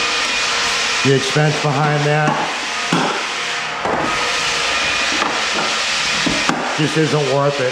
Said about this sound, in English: we use the Festool vacuum